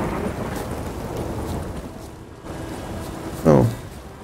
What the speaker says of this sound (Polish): Spacer po plaży w strugach deszczu.